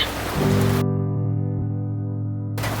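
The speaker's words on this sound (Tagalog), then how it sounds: "Umuulan na naman." Rain falls as a steady broadband hiss at the start and end, while a sustained droning tone fills the middle stretch. There is no talking.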